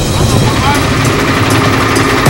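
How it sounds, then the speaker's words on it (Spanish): Engines of a pickup truck and a Unimog idling out in the open on a windy Patagonian road, a loud continuous rumble close by, with a voice talking over it. "También se escuchan los motores de una camioneta y de un Unimog listos para actuar."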